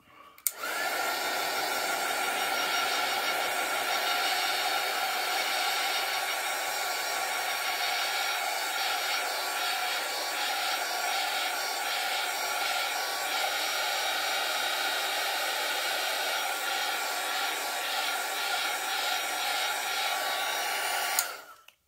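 A hair dryer blows on a wet winter night painting, a steady, close, whirring drone that switches on at the start, holds evenly for about twenty seconds and then cuts off.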